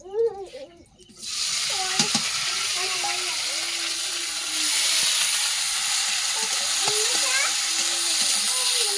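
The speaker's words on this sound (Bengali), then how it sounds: "কড়াই দিয়ে দিচ্ছি পেঁয়াজ, কাঁচা লঙ্কা, আদা রসুন বাটা" Onion, green chilli and ginger-garlic paste frying in oil in a wok, a steady loud sizzle starting after a brief clatter and continuing throughout, with faint talk in the background.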